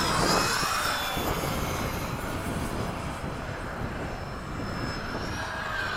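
A MiG-21 jet roars past on a low pass carrying ordnance, a loud, steady broadband engine rush that stays strong throughout with a faint whine riding on top, no voices present.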